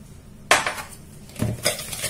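Cake batter mixed in a bowl, a sharp utensil clink against the bowl followed by scraping, knocking strokes, close and fairly loud.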